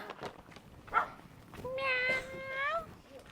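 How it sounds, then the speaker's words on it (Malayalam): A single drawn-out cat meow sounds close by, rising then falling, after some soft background noise and faint voices. "ദേ പൂച്ച ഏയ് മ്യാവ്"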